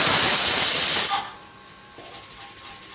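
A pressure cooker whistle hisses loudly, releasing a steady rush of steam while tomato saar cooks, then cuts off after about a second, leaving a quiet kitchen hum.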